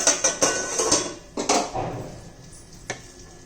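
A metal lid clanks down onto a pan of stuffed brinjal, with a few sharp clatters and taps close by, then a faint simmer underneath.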